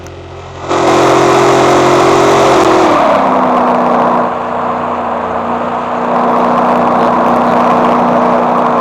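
A simulated car engine in the BeamNG.drive crash game, accelerating toward a wall. It gives a loud, steady droning hum whose pitch steps down partway through, with no voices.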